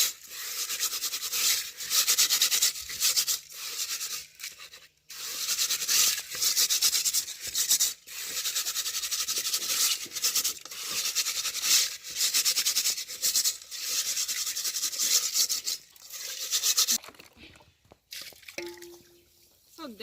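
A cooking pot (sufuria) is scrubbed with sand in a village, giving close, rhythmic gritty rasping strokes with wet drips, steady for most of the stretch before pausing, with a voice briefly heard near the end.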